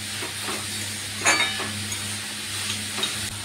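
Grated radish, squeezed of its extra water, is stirred and fried in a pan for mulo bhaja, giving a moderate steady sizzle with scraping spatula strokes and a few light clacks close by, no voices.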